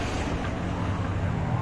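A speed boat runs across the sea off Digha beach, giving a steady, close roar of engine and rushing water mixed with wind buffeting the microphone, with no letup.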